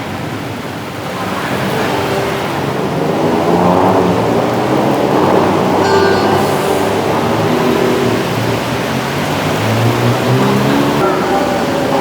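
Heavy rain pours steadily over Bangkok at night near Siam, with a broad continuous wash and low rumbling thunder underneath, loud and close throughout.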